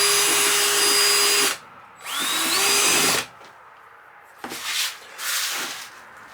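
Drill bit cutting clear plastic for windows on a 215B Cat excavator: two long bursts of high whining drilling with a brief pause between, then shorter, rougher bursts of cutting.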